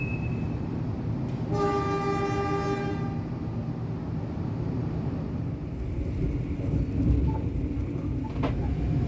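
The Joglosemarkerto passenger train idles at Gundih station, its long sustained horn sounding clearly for about a second and a half over a constant low rumble of engine and platform noise.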